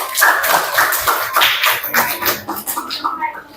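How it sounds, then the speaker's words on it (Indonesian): Students in a classroom clap for a group, a loud, uneven burst of hands that gradually thins and fades toward the end, with some voices mixed in. "Tepuk tangan untuk kelompok audio."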